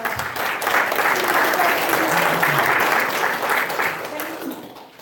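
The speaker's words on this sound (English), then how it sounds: "let's give him a round of applause" Sustained applause from an audience at a tech talk fills the clip, dense and steady throughout, tapering slightly near the end, with a faint voice briefly audible underneath.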